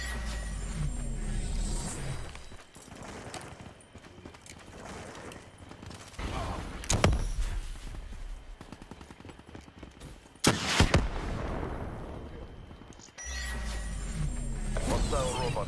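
Rapid gunfire in Black Ops 3 comes in bursts of sharp cracks mixed with mechanical clatter and a couple of loud impacts, with game voices talking between the shots.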